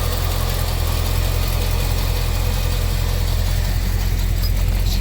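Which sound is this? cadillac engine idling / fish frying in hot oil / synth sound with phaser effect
cadillac engine idling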